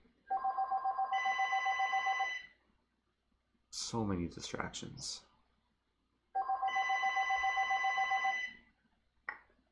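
A telephone rings in two long electronic bursts separated by a pause, moderately loud and nearby, with a person briefly speaking and some clicking sounds between the rings.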